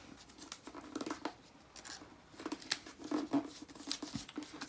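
Paper is folded and creased for an origami fox in soft, close crinkles and light scraping taps, quiet and intermittent with no talking.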